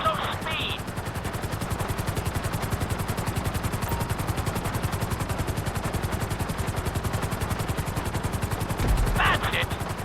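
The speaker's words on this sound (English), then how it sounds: "we'll see how well you handle the chopper" Helicopter flying in GTA 5 during a flight school course, a loud continuous rapid rotor chop pulsing evenly throughout, with brief beeps at the start and end.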